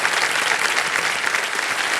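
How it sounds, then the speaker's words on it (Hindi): Studio audience of a Hindi quiz game show breaks into dense, loud applause, a continuous wash of many hands clapping evenly throughout. "तालियां बज जाए इनके लिए।"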